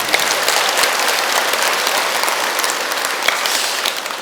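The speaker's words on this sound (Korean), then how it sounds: "내빈들께 다시 한번 더 감사의 박수." Sustained, dense applause of thanks for the guests at a Buddha's Birthday gathering at Samunsa temple in Chuncheon, an even, continuous roar of many hands.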